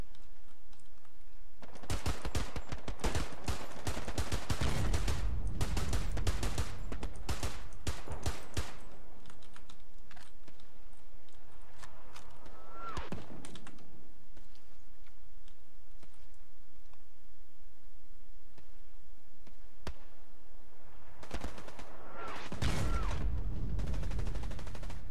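Rapid bursts of gunfire from the video game Hell Let Loose crackle in dense volleys, with long rattling stretches early on, scattered single shots in the middle and another flurry near the end, and no talk.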